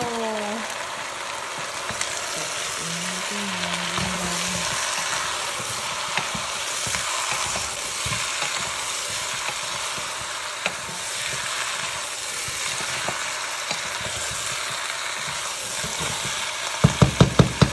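Chicken adobo sizzles loudly in a pan while being sautéed, a steady crackling hiss broken by stirring scrapes and a quick clatter at the end.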